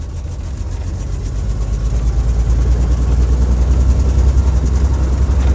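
A US M3 half-track's heavy engine drones in a loud, steady low rumble as the vehicle drives on, climbing through the gears gently and building slightly in strength, with no voices.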